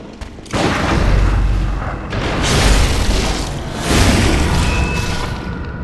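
Gunshot in the video game Bloodborne, in the sewers area: loud, booming blasts in a dense game mix, with a sharp onset and heavy low rumble, followed by further thuds of combat.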